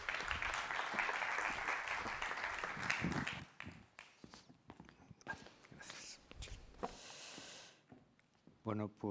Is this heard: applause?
yes